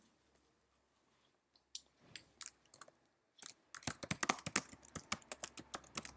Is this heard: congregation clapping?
no